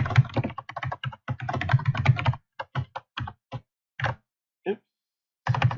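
Rapid clacking keystrokes on a computer keyboard, first in a quick burst then slowing to scattered taps, close and crisp, with a voice briefly heard.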